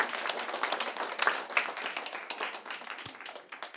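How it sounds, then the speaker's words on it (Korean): A church congregation claps briefly, scattered individual hand claps forming a light, uneven patter at moderate distance, with a few sharper isolated claps near the end. "자, 박수하겠습니다."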